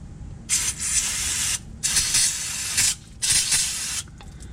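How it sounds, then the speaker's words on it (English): Three bursts of aerosol brake cleaner sprayed onto the oil drain plug and oil filter area of a 2008 Pontiac G8, each a loud, close, broadband hiss lasting about a second with brief pauses between. "spray down the oil drain and the oil filter area"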